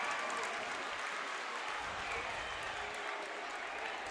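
At a packed high school boys' basketball district tournament game, the crowd in the gym cheers and applauds after a free throw, a steady, dense roar heard from a distance.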